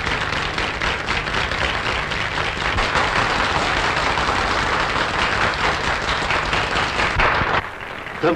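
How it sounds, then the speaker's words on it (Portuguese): Many people clap along with a song in a 1949 film, a dense and loud wall of hand claps lasting about eight seconds before it suddenly drops away near the end. "Um, dois, três, batam as palmas comigo."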